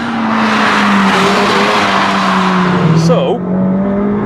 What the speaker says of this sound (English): You get the turbo punch and that blow off noise.